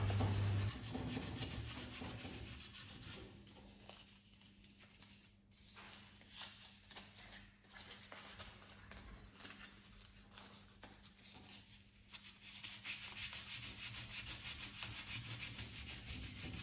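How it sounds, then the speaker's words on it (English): Steady hand sanding of an alloy car wheel with sandpaper, prepared for painting, gives a continuous close rubbing and scratching that swells and fades in long strokes over a faint background hum. "Keep replacing your sandpaper to keep it fresh, to make it easier to do the job."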